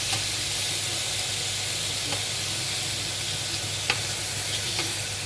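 A croque-monsieur frying in a pan gives off a continuous close sizzle and hiss, with a few faint clicks of a utensil and no speech.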